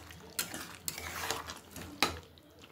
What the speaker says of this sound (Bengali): ভেজে রাখা আলু দিয়ে আবারও একটু আমি নাড়িয়ে চাড়িয়ে নেব।